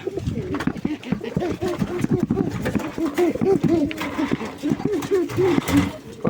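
Raj Golla pigeons in sky-blue and red colours coo repeatedly in deep, throaty, overlapping calls from close by in a loft in Singair, Manikganj.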